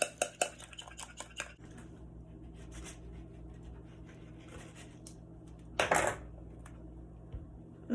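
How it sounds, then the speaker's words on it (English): Crab cake ingredients being mixed by hand in an oversized bowl, clattering and scraping sharply at first, then settling into a soft, steady stir with another brief burst of clinking partway through. "so we're just gonna mix this around like so, like what you see me doing here"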